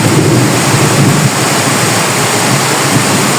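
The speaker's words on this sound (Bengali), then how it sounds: "এখন তার থেকে আরো অনেক বেশি মুষলধারে বৃষ্টি হচ্ছে। আর আকাশে গর্জন করছে সে কঠিন আকারে" Torrential rain roars loudly and steadily, a thick wash of noise with a faint low rumble of thunder beneath it.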